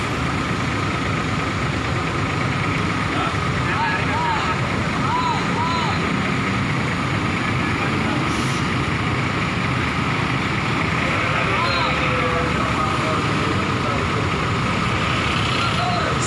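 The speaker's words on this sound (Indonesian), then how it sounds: "ini bis baru dari Agramas ya, R011 menggunakan Mercy OH1626 Jetbus 3 plus MHD" A Mercedes OH1626 Jetbus 3 MHD bus idles steadily at a busy terminal, its constant engine rumble loud and continuous throughout, with faint beeps and other vehicle noise mixed in.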